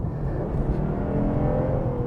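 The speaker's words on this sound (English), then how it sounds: "as the rev range rises, or the engine speeds rise" A 2021 Lexus IS 300 AWD with a 3.5 engine drones steadily from inside the car, a smooth, even hum with a slowly rising pitch as the revs climb.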